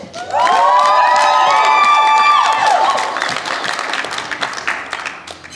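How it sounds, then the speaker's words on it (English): Wedding guests at a reception break into loud, close applause and cheering that swells quickly, then thins into scattered clapping and a few voices as it tapers off. "I hope you can afford us a few minutes in applauding our dear children, Stephen and Jasmine."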